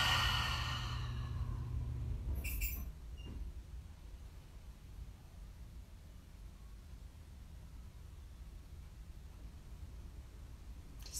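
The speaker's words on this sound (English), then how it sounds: "And go ahead and exhale it out." A long, breathy exhale after holding the breath during yoga, starting loud and close and fading into a soft hiss, followed by a quiet snort and then still background noise.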